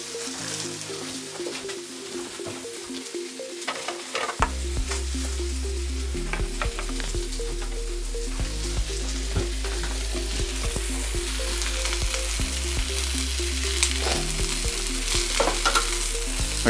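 A New York strip steak sizzles steadily over a flame, a continuous close frying hiss with scattered pops and crackles that runs throughout without any talk.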